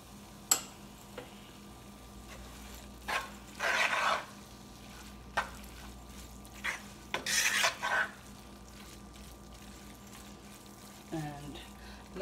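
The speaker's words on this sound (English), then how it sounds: "And let this fry in the oil for another 10 minutes." Onions frying in oil for seeni sambol, a faint steady sizzle broken by several scraping stirs of a utensil against the pan, close and intermittent, with no talking.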